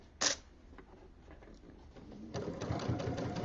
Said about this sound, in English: The needle's in the center, and I'm driving with the foot along the edge of the rug and the binding.